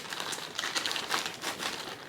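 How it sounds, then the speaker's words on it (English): A plastic shopping bag is crinkled and rustled close up while a Telfar bag is unboxed, a soft, continuous crackling with small irregular bursts. "plastic bag."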